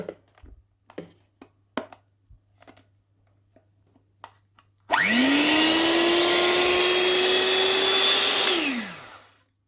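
An inexpensive white electric hand mixer is switched on after a few soft clicks and handling taps. It whirs loudly and steadily for about four seconds before winding down, with a high motor whine throughout.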